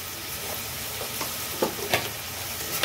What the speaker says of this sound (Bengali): কাটা পেঁয়াজ দিয়ে দিলাম।